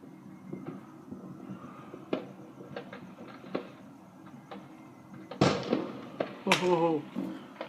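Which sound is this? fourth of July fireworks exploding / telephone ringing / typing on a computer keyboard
fourth of July fireworks exploding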